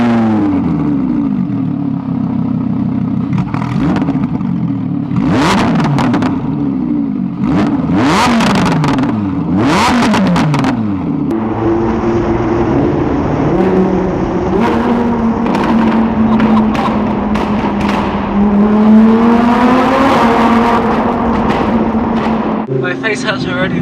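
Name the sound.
Lamborghini Huracan with exhaust mod starting and revving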